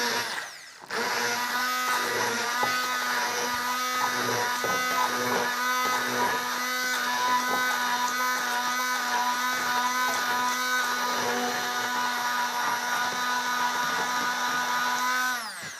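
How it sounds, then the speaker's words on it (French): Immersion blender puréeing soup for a festive home-cooked meal, a loud continuous motor whine with steady tonal hum and churning texture, running close and alone from start to finish without talk. "Alors, le mixeur plongeant, facile à nettoyer, c'est pour ça que je choisis ça."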